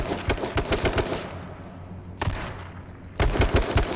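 Bursts of machine gun fire rattle loudly in rapid strings, broken by a short lull before another long burst.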